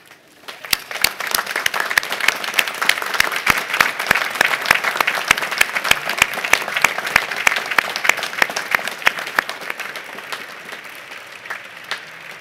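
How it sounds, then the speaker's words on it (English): The audience at the University of Virginia School of Law 2014 graduation gives a long round of applause to honor families, with dense clapping that builds, holds steady and slowly thins at the end. "join me in a round of applause to honor and thank your family"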